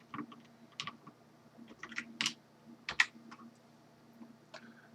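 Code being typed for a C++ tutorial on a computer keyboard: irregular, quiet keystroke clicks close to the microphone, with a few louder taps among them and a faint background hum, no speech.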